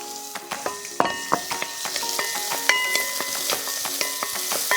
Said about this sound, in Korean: 그래서 이제 참기름을 이제 살짝 둘러주시고, 그다음에 전복의 한 절반 정도 좀 이쁜 부분 넣고 한 마리 정도 분량만 이렇게 이제 볶아주세요